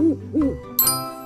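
An owl hoots twice, two clear, close, low hoots in quick succession, followed by a bright jingling chime.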